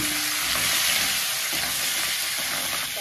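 Whole spice seeds fry in hot oil in a pan for crab curry, giving a loud, constant close-up sizzle and hiss with no voice over it.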